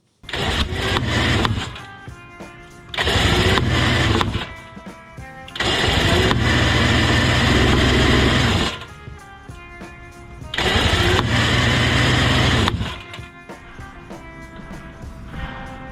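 A Greeves 360MX Challenger two-stroke motorcycle engine runs in repeated loud bursts of revving separated by quieter dips, about five surges over the stretch, close up and without talk.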